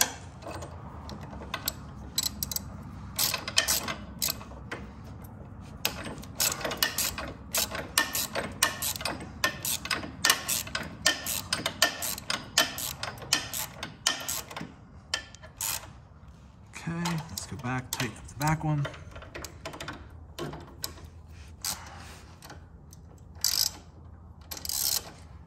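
Tightening bolts on the brake lever of a 2016 Harley-Davidson Street Glide with a ratchet, many quick repeated ratcheting clicks in fast runs, fairly close and moderate in level, with pauses between bursts.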